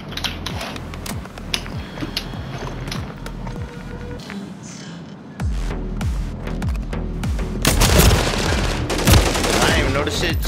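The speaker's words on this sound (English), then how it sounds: "I heard gunfire" Rapid automatic gunfire and bursts of shots in a Call of Duty: Modern Warfare III free-for-all match, continuous and loud, with pauses and heavier clustered bursts toward the end amid game effects.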